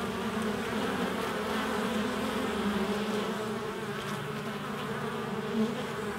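Honeybees carrying ivy pollen fly in at the hive entrance in a UK apiary, their steady, dense buzzing continuous and close throughout with no talk.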